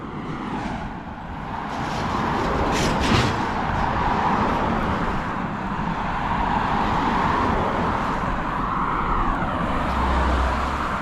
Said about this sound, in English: We've got a lot of traffic coming into town now.